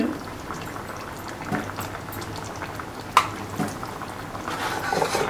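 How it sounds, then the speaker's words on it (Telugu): A pot of fish curry (isukadondula pulusu) bubbling on the boil in a home kitchen, a steady soft simmering texture with scattered pops and one sharper click near the middle, moderately quiet and without talk. "అట్లా బబుల్స్ రావటం మొత్తం బాగుంటుంది."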